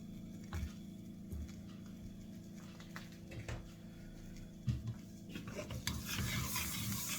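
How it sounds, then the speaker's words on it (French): A spoon stirs cream and melted cheddar into a cheese sauce in a hot pan, soft scraping and squishing strokes with light sizzling, faint and close, without speech. "Et on mélange."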